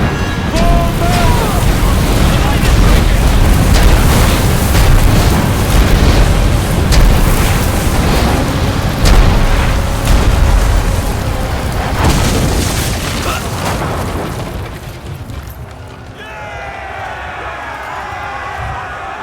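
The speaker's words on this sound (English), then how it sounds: "Catapults! Fire!" Catapults firing and exploding in the Ryse: Son of Rome video game: a dense, continuous roar of booms and blasts over a battle crowd, loud throughout, thinning in the final seconds into lighter clatter.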